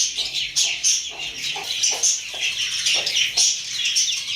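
A weak chick in a brick-built bird cage gives repeated high, thin chirps in quick bursts, close and fairly loud, with no talking.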